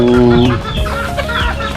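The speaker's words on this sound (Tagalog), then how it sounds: "mayroong tatlong pabo doon Saka mayroong labing apat na sisiw ng pabo" Close, loud turkey calls with warbling, clucking tones overlap, from three adult turkeys and fourteen turkey chicks calling together.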